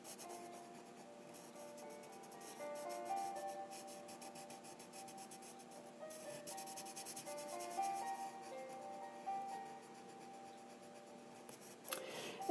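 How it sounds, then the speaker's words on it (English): A blender pencil rubs and scratches across paper while coloring, a soft, continuous scritching with faint music underneath and a sharper scrape at the end. "Take my blender pencil."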